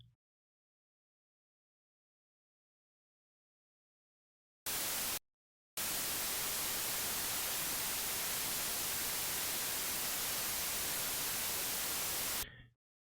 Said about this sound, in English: What is white noise?